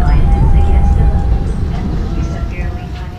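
Interior of the Blora Jaya executive passenger train while riding: a steady, loud rumble of wheels and carriage noise fills the space continuously.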